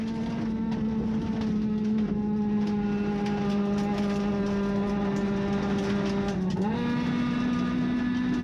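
A powerful Honda-engined rally car races on a gravel stage in South Canterbury, its engine holding a loud, steady high drone close by before a quick gear change and renewed pull near the end.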